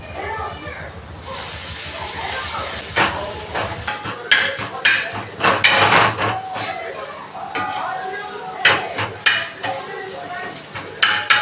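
Metal spatula scraping and clanging against a pan while kothu parotta is stirred with kurma, sharp irregular clanks and scrapes over a soft sizzle, with a person talking throughout.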